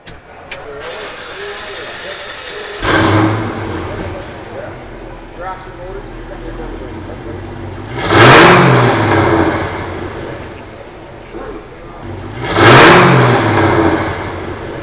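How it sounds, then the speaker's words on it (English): A 1965 Chevrolet Impala SS with twin-muffler Borla exhaust and no resonator idles with a low rumble, then revs three times in loud, rising bursts; voices talk over it between the revs. "And the exhaust on it? It's Borla exhaust."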